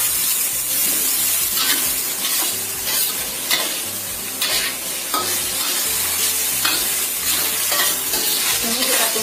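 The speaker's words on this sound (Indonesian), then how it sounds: "Ini kita tumis sampai bombay dan bawang putihnya ini matang ya." Onion, ginger and garlic stir-fried in a pan, a loud continuous sizzle broken by repeated scraping and stirring strokes, close and without speech.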